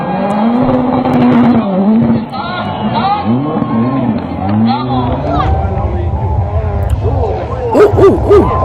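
Rally 4 cars roar past close to spectators, engines revving and shifting in loud rising and falling sweeps, with crowd noise and excited voices mixed underneath.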